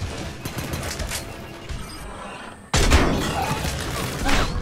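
Gunfire and impacts on a London street in the video game Mass Effect 3, bursts of shots and crashes, louder in a second barrage after a brief drop.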